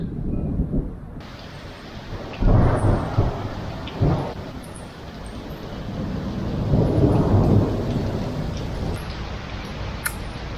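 Low rumbling thunder rolls in two long swells over a steady hiss of rain and wind, fairly distant but heavy.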